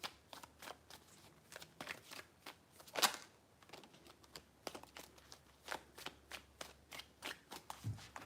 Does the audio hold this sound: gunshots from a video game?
no